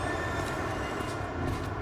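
Subway train in the video game Marvel's Spider-Man 2, a steady loud rumble of rail cars rolling along the track with continuous low clatter and no pauses.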